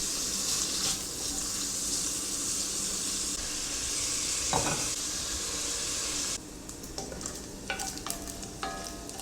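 Chopped bacon frying in olive oil in a pan gives a steady, loud broadband sizzle for most of the stretch, then drops to a quieter crackle broken by scattered pops and clicks of stirring near the end.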